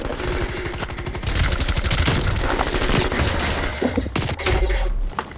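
Rapid automatic bursts from a modified M4 in a Call of Duty multiplayer match, loud and close, with fast repeating shots through most of the stretch and a few sharper single cracks near the end.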